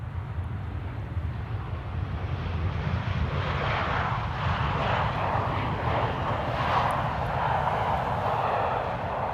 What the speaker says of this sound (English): This is an EasyJet A319 arriving from Marrakesh.